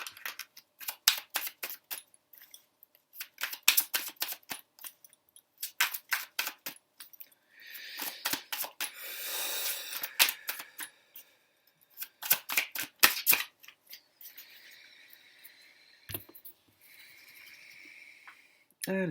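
Tarot cards being shuffled for a draw, with repeated riffling bursts and soft slides of the deck, close and clear, some stretches of smoother card friction between the rhythmic shuffles.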